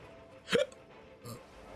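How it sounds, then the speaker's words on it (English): A man gives two hiccups during a game livestream, a sharp close gulp followed about a second later by a softer one, with low game sounds underneath. "I got some weird hiccups kind of going on."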